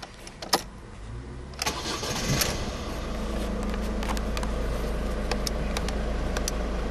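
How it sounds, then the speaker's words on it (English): A 2008 Ford Focus Zetec 1.6 TDCi 110PS diesel hatchback cranks briefly and fires up, settling into a steady, close diesel idle that hums on alone with a few small clicks over it. "Let's turn the car on first."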